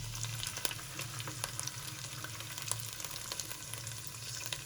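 Steady frying sizzle with a dense crackle and occasional sharp pops, as yogurt hits a hot pan for beef qorma, close and continuous with no voices.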